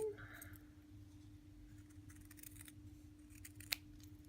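Scissors cut along traced lines in paper, giving a soft, steady run of close snipping and rustling over a faint constant hum, with one sharp click near the end.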